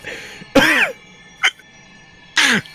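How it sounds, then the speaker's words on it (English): A person coughs three times: two strong, close coughs separated by a short, sharper hack, each burst brief and alone against quiet. "Turn your head and cough."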